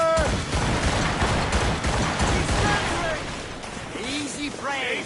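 Ship cannons fire in a broadside during a naval battle in a video game, a dense rolling barrage of booms up close with game voices calling out over the gunfire.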